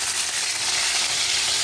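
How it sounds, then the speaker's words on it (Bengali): Fish fry in hot oil in a pan, a loud, dense, continuous sizzle and crackle heard up close with no voices. "তেল গরম করা হয়ে গেছে। এবার মাছগুলো একে একে ভেজে নেব।"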